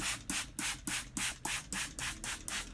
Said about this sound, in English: Quite a nice spray sound.